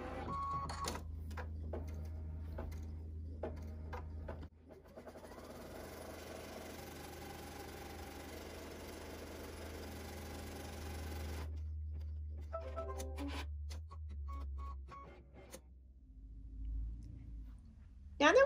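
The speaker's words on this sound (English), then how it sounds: "I'm going to load my frame into my machine. And the first thing that we're going to stitch is our placement stitch." An embroidery machine runs a placement stitch on fabric in a hooped frame, giving a steady mechanical hum and rapid needle chatter for several seconds between clicks and handling noises.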